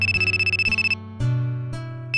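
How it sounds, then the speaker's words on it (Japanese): A telephone rings nearby in a loud electronic pattern: a fast trilling burst, a pause, a long tone, and then the ring starting again, with no talking. "電話じゃない？"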